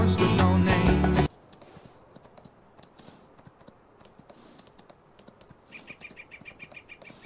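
A horse trots along in Farming Simulator 19, its hooves making a steady, rhythmic clip-clop with scattered bird chirps. A brief burst of loud game music plays at the start.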